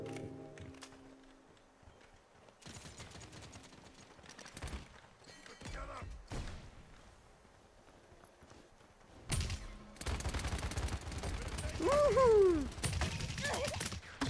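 Gunfire in the video game Paladins, sporadic bursts of rapid shots mixed with other game effects, growing denser and louder toward the end while someone talks.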